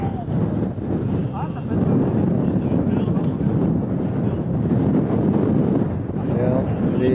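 Steady wind buffets the microphone on a golf course during a pro-am tournament, a constant low roar. People talk over it.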